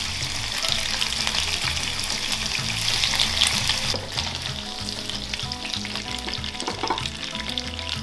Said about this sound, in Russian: Поджарив креветки на оливковом масле, украшаем ими пинчо.